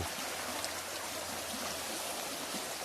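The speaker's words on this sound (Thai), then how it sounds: "นี่ลำห้วยสวยๆครับน้ำไหล" Water flows in a small stream, a continuous broadband rushing and trickling with no other sounds, steady and close.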